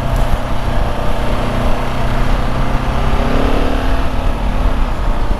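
A KTM 690 Enduro R single-cylinder motorcycle pulls hard under acceleration, its engine a loud, continuous roar close up with rising pitch and steady wind rush throughout.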